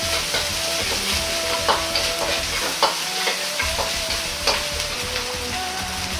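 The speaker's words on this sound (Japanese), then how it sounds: "豆板醤を小さじ1くらい入れて、油となじませるように炒めます。" Doubanjiang chili bean paste is stir-fried in hot oil for mapo daikon: a steady, close crackling sizzle runs throughout, with light spatula scrapes and pops scattered through it.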